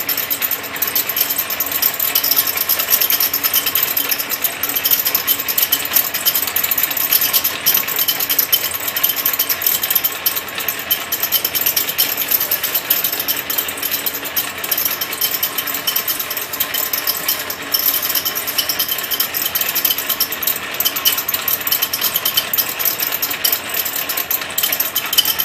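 A Potdevin LM series label gluer runs with a label fed through, producing a steady, loud mechanical clatter of rapid ticking and whirring that continues evenly throughout.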